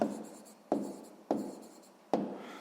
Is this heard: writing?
yes